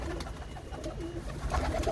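Fancier's pigeons at a loft in Ludhiana coo softly and repeatedly, low rolling calls heard faintly against a quiet background.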